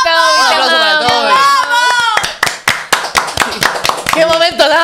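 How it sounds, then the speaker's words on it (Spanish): A live studio audience cheers for Toby with loud, high voices, then breaks into scattered, sharp hand claps before a voice returns at the end. "¡Un aplauso para Toby!"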